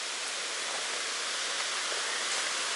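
Steady, loud roar of falling water, dense and unbroken throughout, close to a waterfall along the Foothills Trail near Lake Jocassee.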